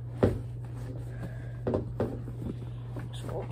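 Someone bangs on a door: a few dull, scattered thumps, modest in loudness, over a steady low hum, with brief sounds of movement between the knocks.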